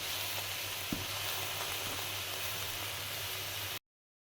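Ground bottle gourd leaf paste fries in a pan on a gas stove, a close, even sizzling hiss with one brief stirring tap before the sound cuts off abruptly.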